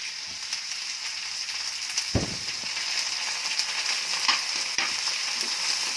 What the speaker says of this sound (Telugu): ఉల్లిపాయ ముక్కలు వేసుకొని కొంచెం ఒకసారి తిప్పాలి.